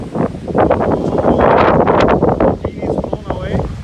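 Strong thunderstorm wind roars loudly and continuously through trees, with dense gusting rush and rustling close to the microphone, building and easing over a few seconds.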